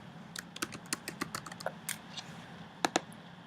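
Typing on a computer keyboard while entering a teacher's name into an online evaluation system, a quick run of close, crisp key clicks that pauses and ends with a couple of sharper taps.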